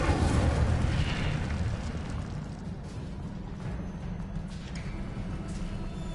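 Incendio fire spell cast in the Hogwarts Legacy game, a loud whooshing burst of flame that roars at the start and settles into a sustained rumbling crackle, heard alone without talk.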